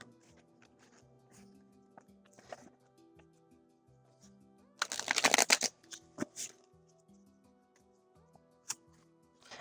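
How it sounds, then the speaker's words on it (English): Tarot cards shuffled by hand in a quiet room: one dense burst of riffling card flutter in the middle, bracketed by a few softer taps and slides of the deck, over faint background tones. "I kind of just shuffle like I'm shuffling cards."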